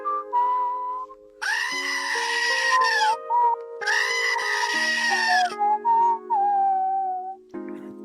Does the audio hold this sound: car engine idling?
no